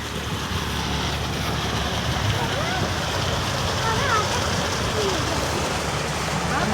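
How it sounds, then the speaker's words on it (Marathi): Stream water flows steadily through green countryside in rural Konkan, a continuous broadband rush running the whole time with someone talking over it. "हे बघा मस्त असं पाणी आहे आणि तिथे चाललं आहे ते पाणी"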